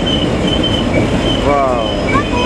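A long train led by Chinese Dongfeng locomotives hauling wagons loaded with rails rumbles past near Jatiluhur, Purwakarta, a loud steady roar with thin wheel squeals rising over it.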